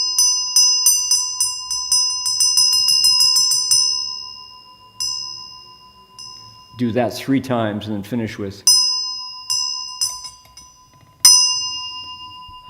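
A quickly decaying bell is struck in an ornate pattern: a run of bright strikes accelerating into a rapid roll, then a pause while someone speaks, then sparse single strikes that ring out briefly.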